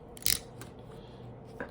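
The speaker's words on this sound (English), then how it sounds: "I'm using scissors." Scissors cut an ethernet cable jacket: one sharp, close snip, then a few fainter clicks and a small final snip, with no talking.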